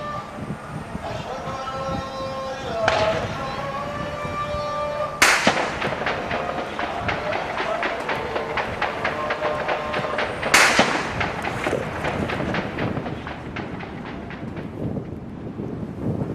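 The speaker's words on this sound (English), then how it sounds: "That's anti-aircraft fire" Anti-aircraft gunfire as government troops battle insurgents in Somalia: long bursts of rapid, hard cracking shots rattle on continuously, with sharper louder blasts and wind buffeting the microphone, fairly close and loud.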